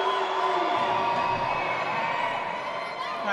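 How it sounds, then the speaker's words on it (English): A netball crowd groans and murmurs with displeasure at a referee's call, a sustained, moderately loud hum of voices that swells slightly near the end. "Crowd not happy"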